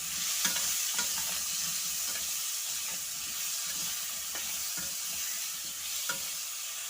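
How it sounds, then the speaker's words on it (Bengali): Potato pieces fry in an oiled pan with turmeric powder and salt, giving a steady close sizzle and hiss with occasional soft scrapes of stirring. "দিচ্ছি হলুদ গুঁড়ো দিয়ে একটু সুন্দর করে লাল লাল করে আলুটাকে ভাজবো।"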